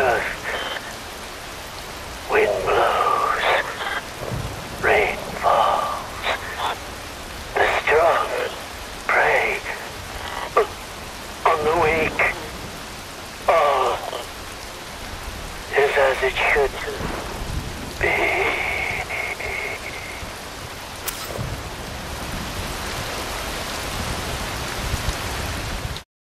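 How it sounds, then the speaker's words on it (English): Steady rain pours in the video game Metal Gear Rising: Revengeance, with a continuous wash of falling water and low rumble. Repeated bursts of voices cut in over the downpour. "Wind blows, rain falls."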